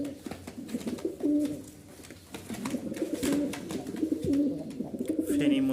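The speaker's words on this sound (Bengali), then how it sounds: "এত সুন্দর ডাকের কবুতর দিচ্ছে" Pigeons coo repeatedly in their loft, overlapping low rolling calls from several birds close by, steady and fairly loud throughout.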